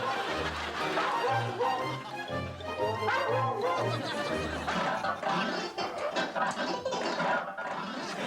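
A dog howls and yips in a wavering, sing-song way, with a pitched melodic tone and people laughing in the background.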